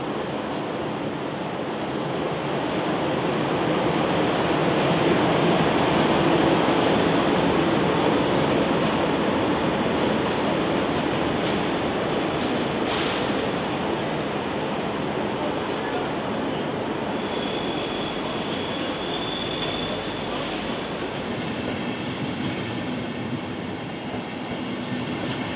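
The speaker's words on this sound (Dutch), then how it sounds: "vertrekt de trein met aan kop de 1251 richting Bad Bentheim" A vintage train hauled by locomotive 1251 rumbles steadily past, departing toward Bad Bentheim, with a broad, continuous roar of wheels on track, swelling and then slowly easing, with no voices over it.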